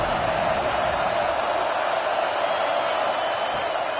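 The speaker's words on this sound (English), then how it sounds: "This crowd going to try to make life miserable for these guys." Stadium crowd noise in a college football video game, Auburn versus Kentucky, forms a steady, loud, unbroken roar of many voices.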